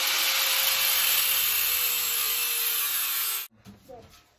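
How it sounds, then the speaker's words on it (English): Steady, loud broadband power-tool cutting into an old lawnmower wheel, running continuously for about three and a half seconds before stopping abruptly, followed by faint clanks and handling noise. "I found this old wheel to a lawnmower, and I'm just kind of cutting out here."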